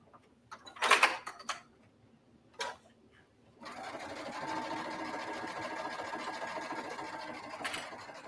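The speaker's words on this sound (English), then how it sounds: "You also want to be making sure that you are sewing through all the layers of fabric" A sewing machine stitches through several layers of fabric on a book pocket, running in a few short bursts at first and then one steady, continuous run of close mechanical whirring and needle clatter.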